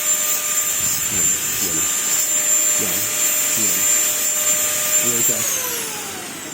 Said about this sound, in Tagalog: pinuputulan lang ni Uni yung yung tornilyo